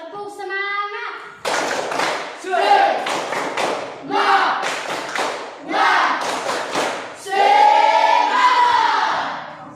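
A school class led by their teacher performs the 'tepuk semangat' chant, with bursts of rhythmic group clapping alternating with loud shouted voices in a classroom.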